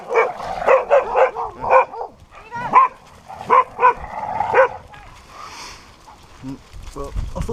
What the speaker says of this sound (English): Some of the dogs taking an interest in my dogs.